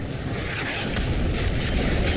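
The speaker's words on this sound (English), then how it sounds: "Oh, we're bombing the crap out of that." Bombing explosions in the video game The Bureau, heard as a continuous loud rumbling roar of blasts with no clear breaks between them.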